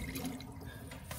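Water mixed with sediment drains from a water heater tank, a brief, faint trickling and splashing flow that continues steadily, with no voices.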